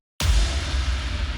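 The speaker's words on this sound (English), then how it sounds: "So the song starts with a few layered impacts." A layered impact effect for a metal track hits with a heavy low boom and a wash of noise, then sustains loud and dense as it rings out alone.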